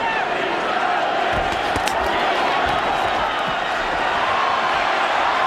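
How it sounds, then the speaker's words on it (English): A boxing arena crowd at a heavyweight bout between Vitali Klitschko and Kirk Johnson roars in a dense, continuous wash of cheering, with scattered shouts and a few sharp thuds rising above the steady noise. "Crowd goes nuts."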